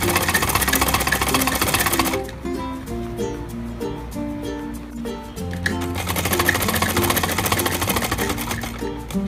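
Sewing machine running steady double-stitch seams on a designer kurti, a continuous loud mechanical whir with a brief slowdown partway and then resuming alone.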